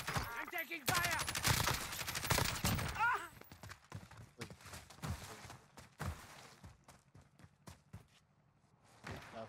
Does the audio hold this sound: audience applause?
no